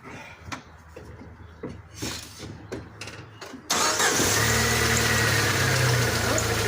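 A 1999 Jeep TJ engine cranks and catches at once, then settles into a loud, steady idle that holds even; light handling noises and movement come before the start.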